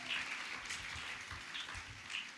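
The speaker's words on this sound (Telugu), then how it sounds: "నా మాట అర్థమైన వాళ్ళు చప్పట్లు కొట్టి ప్రభువుని మహింపరచండి." A church congregation claps together: a soft, steady wash of many hands, somewhat distant and even in level for a couple of seconds, with no voices on top.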